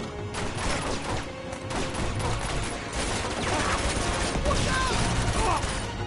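Continuous gunfire and bursts of shooting from the Uncharted: The Nathan Drake Collection demo fill the clip loudly and densely, with in-game effects layered over it.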